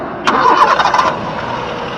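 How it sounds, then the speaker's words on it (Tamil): A 2007 Honda City engine cranks briefly and catches, starting up with a short burst of noise, then settles into a low steady rumble. "இப்போ வண்டி பார்த்தீங்கன்னா ஸ்டார்ட் பண்ணி பார்க்கலாம் எப்படி இருக்குது அப்படின்னு"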